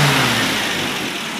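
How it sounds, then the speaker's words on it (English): An MGB engine with electronic ignition fitted gets a quick rev, a loud close roar that starts high and slowly falls back toward idle. "I'll give it a quick rev"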